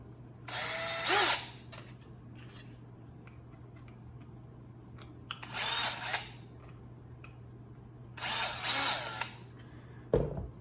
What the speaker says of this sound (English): we're going to open them up and make them a clearance hole with a 9/32 inch drill bit